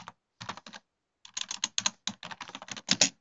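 Quick, light clatter of fingers typing on a computer keyboard, a short burst followed by a brief pause and then a longer steady run of keystrokes, close and fairly soft.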